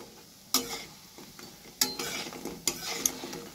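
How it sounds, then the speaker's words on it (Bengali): Lentil fritters (dal bora) frying in oil in a home kitchen, a soft steady sizzle broken by a few sharp stirring clatters, quiet and close with no talk. "ডালের বড়া প্রায় ভাজা কমপ্লিট"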